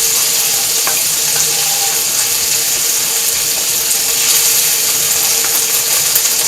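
Food cooks down in a hot pan with a pinch of salt, making a loud, steady, close hiss and crackle with faint clicking underneath. Nobody speaks.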